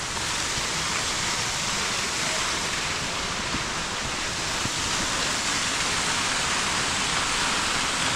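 A 60-foot waterfall roars as a steady, dense, broadband rush of falling water, loud and continuous throughout with no voices.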